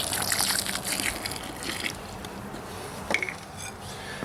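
Water poured and trickling onto fire clay being wetted down for an aluminum foundry build, a steady liquid splash and dribble that is loudest at first, then settles into a softer trickle with a brief splashy burst near the end.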